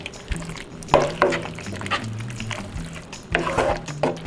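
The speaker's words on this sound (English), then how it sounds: "Add our mushrooms. Just gonna mix it up." Mushrooms get stirred in a pan over very low heat, giving soft scraping and faint sizzling scuffs with a few clunks of the utensil, moderately close.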